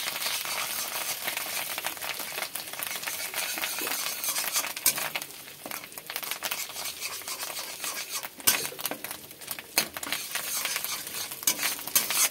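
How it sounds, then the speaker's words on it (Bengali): Steady crackling sizzle of fish roe frying in hot oil, continuous and close, with occasional soft clinks and stirring scrapes. "মাছের ডিমটা একটু সামান্য হালকা করে ভেজে নেবো।"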